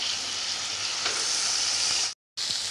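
Bamboo shoots and pork sizzle steadily in a hot pan, a loud, even hiss of frying that fills the clip, broken by one brief moment of silence near the end.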